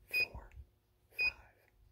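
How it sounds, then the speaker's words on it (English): An HTZSAFE home security receiver gives two short, bright electronic beeps about a second apart, close and clear in a quiet room, confirming a sensitivity setting. "It beeped back to me and confirmed I chose 5 as the sensitivity level"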